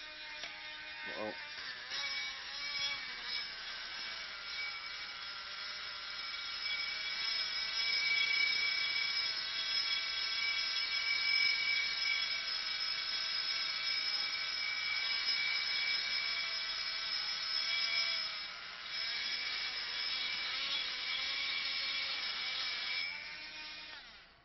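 A gyroscope spins steadily during a physics lecture demonstration at MIT, giving a loud, sustained high whir with bright harmonic tones. It holds for about twenty seconds and then fades out at the end.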